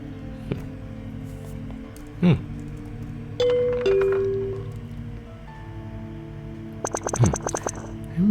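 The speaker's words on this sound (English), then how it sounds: "Oh, is that the doorbell?" A two-tone electronic doorbell chimes in a spooky Halloween video game, with a few separate ding-dong rings over a soft game-music bed. Occasional brief sounds fall between the rings.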